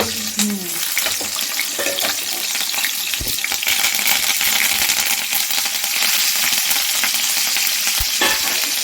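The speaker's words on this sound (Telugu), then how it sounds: "ఫస్ట్ పచ్చిమిరపకాయ వేసుకున్నాం. ఆయిల్ హీట్ అయిపోయింది." Green chilies crackle and sizzle loudly in hot oil in a cabbage curry pan, a dense continuous frying hiss broken by spatula scrapes and stirring knocks.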